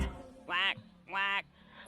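A person twice mimics a duck's quack, each a short nasal honk with a brief pause between, close and clear.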